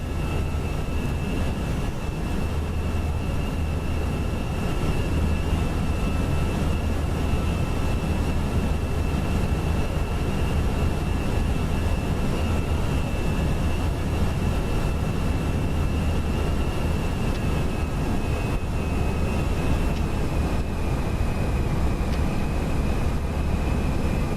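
An FSLabs A320 airliner in a flight simulator climbs after takeoff, its jet engines giving a steady broadband roar with a thin, sustained whine above it that drifts slightly lower toward the end. No voices are heard.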